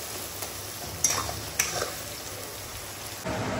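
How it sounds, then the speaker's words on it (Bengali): Spice paste (masala) with turmeric powder frying in a pan, a steady sizzle under light stirring clatter, with a few sharper utensil scrapes; rain may also be pattering outside. "মশলাটাকে ভালো করে কষিয়ে নিতে হবে।"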